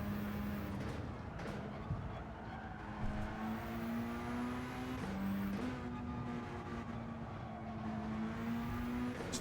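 Tokyo WTC 600 RCZ Group B rally car from Gran Turismo 7, its engine droning steadily with shifting pitch as it slides through corners, tires scrabbling underneath and occasional gear changes, heard alone without talk.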